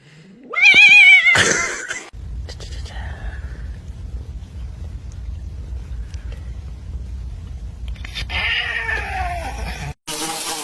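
A cat lets out a loud, drawn-out meow near the start, then a low rumbling background continues and another short vocal cry rises near the end, with some speech present.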